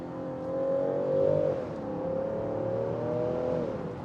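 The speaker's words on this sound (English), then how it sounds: "I want to get up in the revs again" Land Rover Defender 90 P400 engine revving steadily and loud, its pitch climbing, dipping briefly, then holding high again with a continuous strong drone, no talking.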